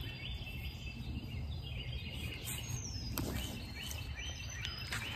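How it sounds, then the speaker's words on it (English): A bird calls outdoors in spring, faint chirps and a brief whistled note rising now and then over steady low rumble and insect-like hiss, with one sharp tap partway through. "That was a bird."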